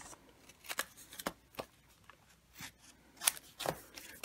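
Scissors trim cardstock in a quiet room, a series of faint, separate crisp snips at an irregular rhythm, heard alone.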